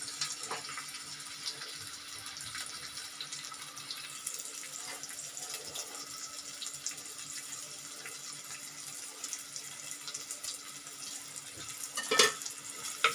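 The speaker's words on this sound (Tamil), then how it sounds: "இது நல்லா வதங்கட்டங்க." Chopped green chillies sizzle steadily in a hot pan, a soft, even crackle with faint scraping that holds throughout, with one brief louder clatter near the end.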